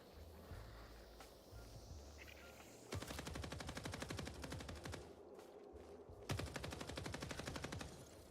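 Sustained automatic gunfire in the video game Marathon, two long rapid-fire bursts of evenly spaced shots heard at a distance, with quieter ambient game sounds in between.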